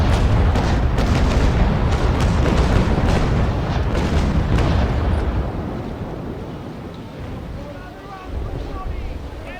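Long guns on a sailing warship in Naval Action fire a rapid run of deep booming cannon shots over wind and sea noise, then the firing eases into a quieter rumble.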